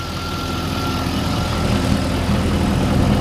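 A 2003 Chevrolet Corvette 50th Anniversary convertible idles its LS V8 through aftermarket exhaust tips. The low, even rumble is steady and close and builds slightly toward the end, with no talking.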